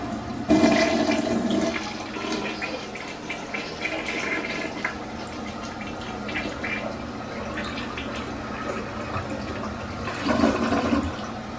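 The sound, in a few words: toilet flushing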